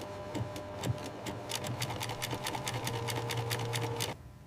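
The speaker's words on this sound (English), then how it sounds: "Rose gold thread creates the rose motif stitch by stitch." An embroidery machine stitches a black baccarat rose motif in rose gold thread for a Rolls-Royce La Rose Noire Droptail interior. It runs as a fast, steady, rhythmic clatter with a mechanical hum for about four seconds and then stops abruptly.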